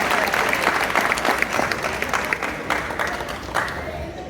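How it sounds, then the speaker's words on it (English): A middle school graduation crowd applauds the graduating class, a steady, dense roar of clapping from many hands with faint voices mixed in. "Give them a round of applause for the first class"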